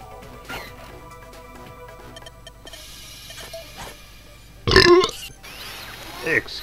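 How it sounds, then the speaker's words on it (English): A man playing a video game lets out one loud, close burp near the end, with game sounds and quiet background noise before it and a smaller vocal sound after. "I don't usually burp on videos, but goddamn!"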